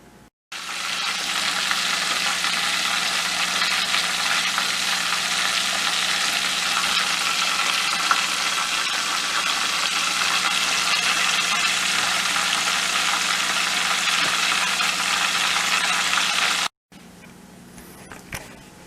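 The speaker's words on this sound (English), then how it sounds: "Fresh fried crappie for breakfast here in Missouri." Crappie fish frying in a pan in Missouri, a loud, steady, close hiss of hot oil that runs unbroken before cutting off near the end, leaving faint quieter sizzling.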